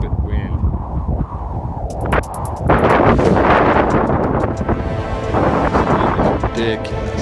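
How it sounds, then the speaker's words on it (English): Heavy wind gusts roar and buffet the microphone outdoors in a constant low rumble that surges louder partway through, with a voice faintly present under the noise. "Must be some heavy wind gusts. This is a stupid wind."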